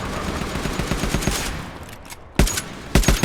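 Video game gunfire crackles in rapid bursts, with a dense fusillade at first, then a pause and sharper volleys of shots toward the end, fairly close with no talking.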